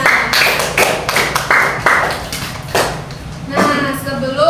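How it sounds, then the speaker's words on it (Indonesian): Students in a classroom clap in several distinct rhythmic bursts, fairly loud and close, with short gaps between clusters of claps and a voice heard near the end. "Beri tepuk tangan untuk semuanya."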